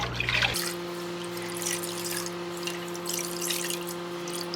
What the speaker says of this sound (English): So I'm just dipping it in the water and then wringing it out until the water looks a little bit cleaner.